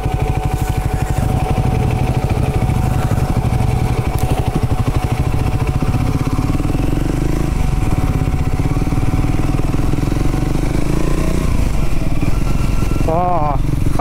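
A Triumph Scrambler 400 motorcycle engine runs steadily while being ridden, a loud continuous throbbing drone close by that persists through the whole stretch, with someone talking over it.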